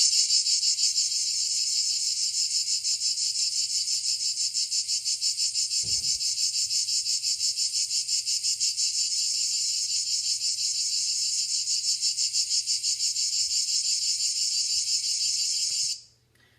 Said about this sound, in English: I found a quick YouTube video that gives what the cicadas sound like